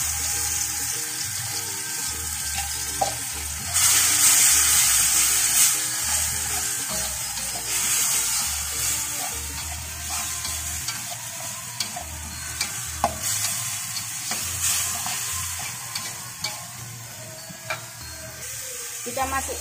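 A coarse spice paste sizzles steadily as it fries in a pan, with a spoon scraping and stirring through it and faint clinks now and then, continuous and close for the whole stretch.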